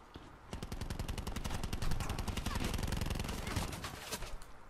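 Rapid automatic gunfire from Call of Duty Black Ops 4 rattles on continuously at close range, dense bursts of shots sustained for several seconds.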